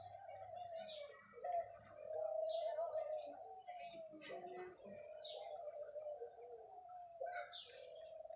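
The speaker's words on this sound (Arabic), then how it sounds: "شي الحمام" Pigeons cooing in a bird park in Fez, low repeated coos running through the clip alongside scattered chirps from other birds in an open outdoor space, moderately near and faint.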